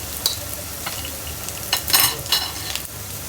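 Rice frying in a pot with ginger garlic paste, a close steady sizzle with a few bursts of stirring and scraping.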